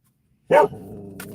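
A single sharp dog bark, close and loud, after a moment of silence, followed by a low steady hum.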